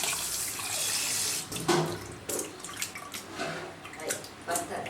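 Tap water gushing into a sink, loud and close at first, then broken into splashy bursts and pauses as it is interrupted, with no talk.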